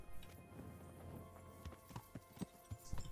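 Horse hooves clip-clopping in the Kingdom Come Deliverance video game, a few distinct hoof thuds at an uneven walking pace growing clearer toward the end over a low background hum.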